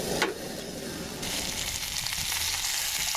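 Food sizzles and fries steadily in a metal canteen cup as it browns, a close, continuous crackling hiss with a faint stirring scrape, no voices.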